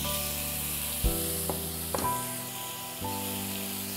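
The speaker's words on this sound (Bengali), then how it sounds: "এখন যেটা করব টমেটো যে পাল্পটা রেখেছি সেই পাল্পটা দিয়ে দিলাম" Tomato pulp tipped into a hot pan for cheese pasta, giving a steady close sizzle with a few sharp clatters and stirring knocks, no talking.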